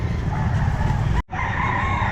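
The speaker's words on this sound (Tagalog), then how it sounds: "Ayan, manok niya." A rooster or chicken calls steadily amid the crowded din of a pet market in Calumpit, with a brief cut in the middle before the noisy background resumes.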